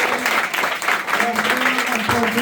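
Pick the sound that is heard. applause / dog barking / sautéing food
applause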